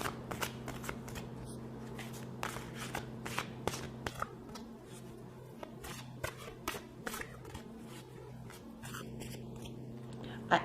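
A large deck of tarot-style cards is shuffled by hand in a steady run of crisp riffling bursts, close and fairly quiet over a low steady hum, with no talking.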